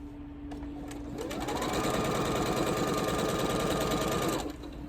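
A sewing machine stitches scrappy crossroads quilt pieces, running as a steady, close, continuous whir for most of the span after a brief lead-in hum, with no talk.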